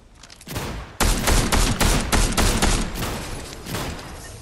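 Gunfire in the Fortnite video game, a rapid burst of loud close shots in a quick rhythmic volley lasting a few seconds, with no talk over it.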